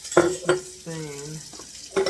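A spoon scraping and knocking inside a quart glass jar while shredded cabbage is pressed down for coleslaw, a few close clinks and a sustained ringing scrape, moderately loud, no voices.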